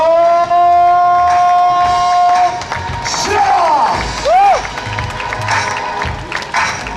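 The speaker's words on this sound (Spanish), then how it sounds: "Un fuerte aplauso para el último romántico de Sport." Crowd at an NBA fan event in Valencia breaks into loud applause and cheering, with whoops rising over a steady clapping wash that continues through the clip.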